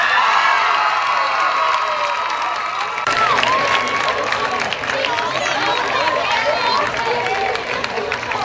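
Homecoming crowd at a school football event cheering and applauding the queen, a loud sustained wash of claps, shouts and whistles that swells after a few seconds.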